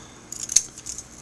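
Scissors snip through a makeup swatch package, a few quick, close, crisp metallic cuts clustered in a brief burst, with no talking.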